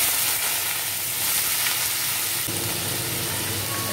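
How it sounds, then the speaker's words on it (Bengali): Sliced banana stem fries in hot oil in a wok, giving a continuous close sizzle and crackle that holds steady from start to finish. "ছোটটা ভাজার জন্য আমি তেল দিয়ে দিচ্ছি কড়াইতে"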